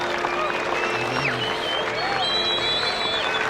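Holosuite crowd cheering and applauding at a baseball game, a steady wash of clapping and cheers with whistles throughout, with voices over it.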